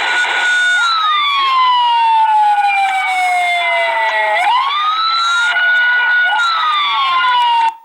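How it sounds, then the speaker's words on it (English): Several police sirens wail at once during a shooting, loud and close, their rising and falling tones overlapping in steady sweeps that run through the whole stretch before cutting off abruptly. "we have multiple cops shooting, multiple sirens"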